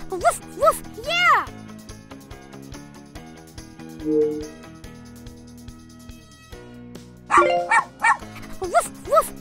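Cartoon puppies bark and yip in the Super Why! Puppy Day Care video game, several short bursts at the start and end over a bright musical backing, with a child-like voice speaking in between.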